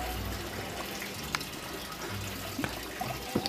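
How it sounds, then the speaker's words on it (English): Shower running somewhere nearby, a faint steady hiss of falling water with a few small knocks and clicks over it, no voices. "I hear the shower."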